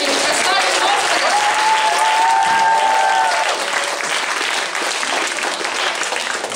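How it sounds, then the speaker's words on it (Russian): An audience at a church gathering bursts into vigorous, sustained applause that fills the room, loud and dense from start to finish. "Давайте бурными аплодисментами прославим Господа."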